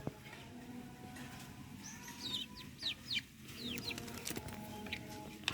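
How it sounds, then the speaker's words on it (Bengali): Twenty-day-old Japanese quail give quick, high chirping calls in short bursts over a low background hum, fairly close. "এগুলো কিন্তু জাপানিজ কোয়েল এগুলো হচ্ছে জাপানিজ কোয়েল"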